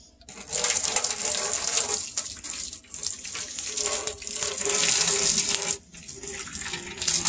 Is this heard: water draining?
yes